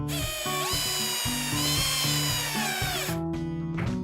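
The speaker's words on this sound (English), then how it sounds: "I fastened it most of the way with the drill" A power drill whirs in repeated short bursts, its motor pitch rising and falling as it drives a screw into a Hobie Mirage Passport 12.0 kayak, close and loud.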